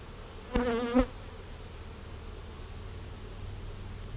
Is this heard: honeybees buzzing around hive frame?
yes